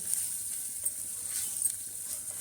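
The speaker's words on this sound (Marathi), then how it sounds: "यात घालू आता आपण कांदा उभा चिरलेला कांदा चांगला मऊ शिजून घेऊ" Lengthwise-sliced onion for a mutton curry fries in a pan with a steady, soft sizzle and a faint hiss, and a few small stirring clicks rise over it.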